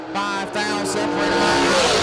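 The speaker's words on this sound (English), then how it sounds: "Nice drag race off the hit." Two drag racing cars launch off the line at a memorial race event, a loud rising roar of engines accelerating hard with a brief tire squeal, close and continuous for about two seconds.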